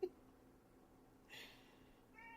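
A pet cat in a home at bedtime gives a short, faint meow partway through, followed by a soft trailing cry, against a quiet room background.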